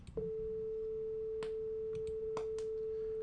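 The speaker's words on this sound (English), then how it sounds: "So I'm going to play the sine wave" A pure, steady sine-wave test tone played through virtual tape-machine processing sounds loud and unbroken for the whole stretch, starting almost at once, with a few faint clicks and ticks behind it.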